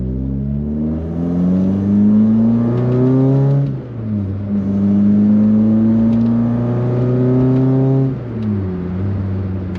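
A clean Volkswagen Golf MK1 engine revs up repeatedly as the car drives, with loud rising harmonic pitch sweeps that drop back at gear changes around every four seconds, close and steady, with no talking.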